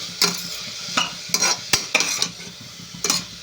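Chopped vegetables salted and frying in a pan for upma give a steady sizzle, broken by sharp scraping strokes of a spatula at irregular intervals, close and clear with no voices.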